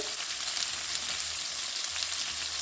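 Keto meatballs hiss and crackle in a hot frying pan as they are turned over, a dense continuous sizzle, loud and close with no voices.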